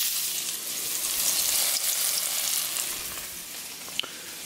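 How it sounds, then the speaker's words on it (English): Pretzel-coated white bass fillets frying in hot oil give a steady, close crackling sizzle throughout, with a single sharp pop near the end. "So now all that's left to do is fry these suckers up."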